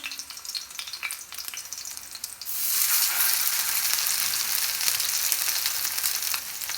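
Peshawari chapli kebabs frying in a pan: a faint hiss gives way partway through to a loud, steady, close sizzle that continues to the end.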